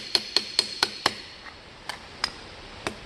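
A hammer strikes aluminum sheet being shaped into armor plates. Five quick sharp taps come first, then several sparser, lighter blows, close and clear against a quiet room.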